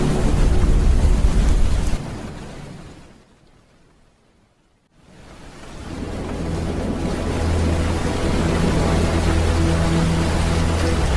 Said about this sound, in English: And the rain was still descending upon the earth